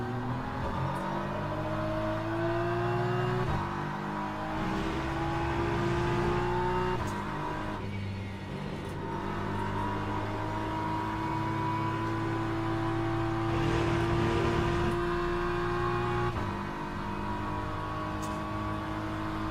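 Prototype race car engine in Le Mans Ultimate, a continuous buzzing whine rising and falling with acceleration and gear shifts, moderately loud and alone without talk.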